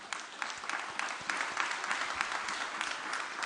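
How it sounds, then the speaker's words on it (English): A conference audience applauds panelists at an investment conference, steady dense clapping from a large hall, distant and even throughout. "I think you will join me in applauding"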